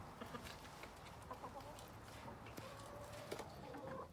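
Chickens clucking softly at a moderate distance, several birds murmuring continuously over a low background hum.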